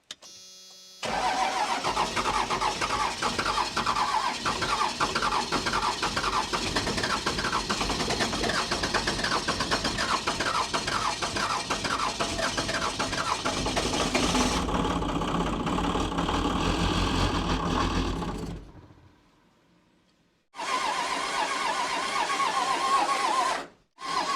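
A Cummins diesel that has sat for years with missing engine parts cranks hard and catches, then runs loud and rough for about twenty seconds before it cuts out and briefly fires again.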